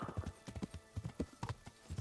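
Horse hooves clip-clop in a steady trotting rhythm as a rider travels on horseback in the medieval game Kingdom Come: Deliverance, with distinct close hoofbeats and no voices.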